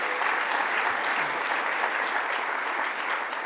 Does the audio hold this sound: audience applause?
yes